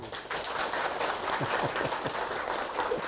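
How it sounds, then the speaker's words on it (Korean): An audience applauds at a Buddhist lecture, with steady moderate clapping throughout and faint voices murmuring underneath. "박수 한번"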